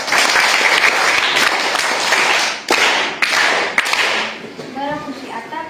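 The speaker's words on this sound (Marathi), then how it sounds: "तुझ्यासाठी सगळ्यांनी टाळ्या वाजवा" Children at a primary school quiz clap for a participant, a loud burst of many hands that thins into a few scattered sharp claps and fades out, followed by a voice speaking.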